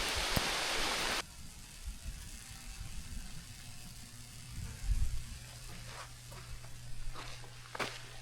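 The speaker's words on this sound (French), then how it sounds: "Il pleut assez fort." Heavy rain falls steadily on a surface outdoors, a loud wash of hiss at the start giving way to softer patter with scattered drops and occasional low rumbles.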